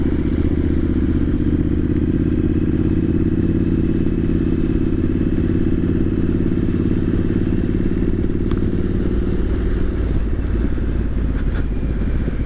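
A Triumph Street Scrambler 900 ABS motorcycle on a test ride, with a loud steady engine drone, wind and road rumble throughout and some clatter, with the pitch shifting near the end.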